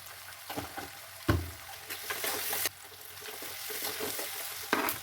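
Onion and ginger fry in a pan, a steady sizzle broken by a few sharp stirring scrapes and clatters of a utensil against the pan.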